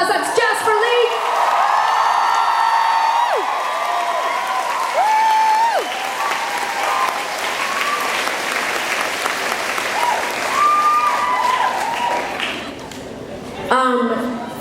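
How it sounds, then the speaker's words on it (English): Concert crowd applauding and cheering loudly and steadily after a band member is introduced on stage, with whoops and shouts rising over sustained clapping that fades near the end before a brief swell. "Give him a huge round of applause."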